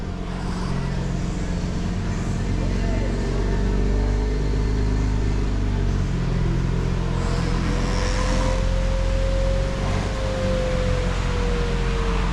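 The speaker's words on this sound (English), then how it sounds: "It's gonna have the exhaust from that car, which is really loud." A loud, steady 2025 BMW M4 Competition xDrive engine roars continuously with a deep rumbling exhaust drone and a faint rising whine partway through.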